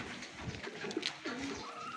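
A soft, low coo from an old pigeon rises briefly over faint background noise, close by and gentle.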